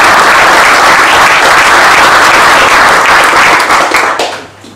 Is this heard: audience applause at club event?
yes